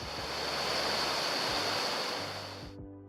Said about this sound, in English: The Onaping River runs close to the highway, dropping through a number of scenic little falls and chutes.